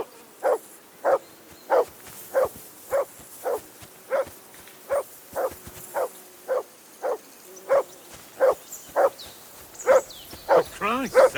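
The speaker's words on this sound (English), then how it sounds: "Call off that damn dog before he wolfs down the last of our mates" A dog in the medieval world of Kingdom Come: Deliverance II barks about fifteen times in a steady rhythm of roughly one bark per second, each one loud and close, with a quicker flurry of barks at the end.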